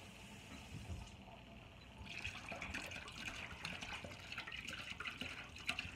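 Liquid pours steadily while coquito is being made, a soft, continuous trickling stream that is quiet and close, with faint handling noises and no talk.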